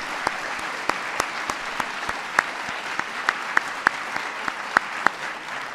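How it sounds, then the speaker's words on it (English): An audience at a national science and technology medals ceremony applauds, with a dense, sustained wash of clapping and distinct rhythmic claps rising above it, heard without talking. "let's give a big round of applause to my military aide"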